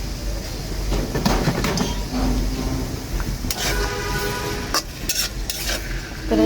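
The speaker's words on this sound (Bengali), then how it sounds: "আমি 1 কাপ পরিমাণ পেঁয়াজ দিয়ে দিব। এটা পেঁয়াজটা করে নিব লাল লাল করে।" A cup of onions fries in a pan until red-brown for a chicken roast, with a loud, continuous sizzle broken by scraping stirs and metallic clinks of a spoon against the pan.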